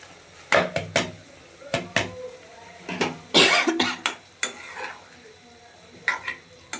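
Chopped potatoes go into a hot pan for frying during home cooking of beef lung and rohu fish belly, with a series of sharp scraping stirs and sizzling bursts against a quiet background, plus a cough or two.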